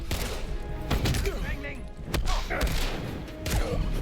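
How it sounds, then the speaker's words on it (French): An enemy opens fire in an Indiana Jones game, with bursts of gunshots and impacts in rapid succession, sharp and loud, over a low background of game sound. "dès qu'il te tire dessus"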